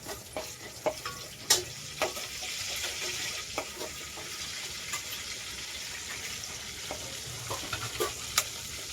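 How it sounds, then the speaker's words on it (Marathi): Mustard seeds and cumin crackle and sizzle in hot oil in a pan, with a steady frying hiss broken by sharp pops and the scrape of stirring, close and fairly loud. "मोहरी टाकली थोडं जिरं ते चांगलं भाजून घेऊया"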